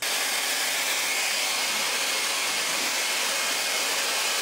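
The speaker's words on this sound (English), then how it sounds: "just blow drying it like upside down" A hair dryer blows steadily throughout, a loud continuous rushing whoosh with no pauses and no voices.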